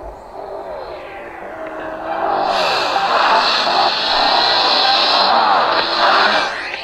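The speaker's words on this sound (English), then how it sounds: "Give you a little preview of how Asphalt 6 looks on the Xperia Play." Racing car engines from the mobile game Asphalt 6 play from a Sony Ericsson Xperia Play handset, a synthetic engine drone that swells into a loud sustained roar with rising and falling revs.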